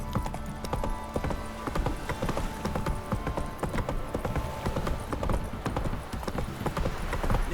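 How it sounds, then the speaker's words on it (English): Horse hooves clop and gallop steadily across the ground in The Witcher 3 video game, a fast rhythmic beat that stays loud and close throughout, with game sounds faintly underneath. "Whoa there, Roach"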